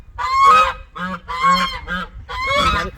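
Geese honk loudly and close, several harsh nasal calls in an uneven rapid sequence, with no other sounds.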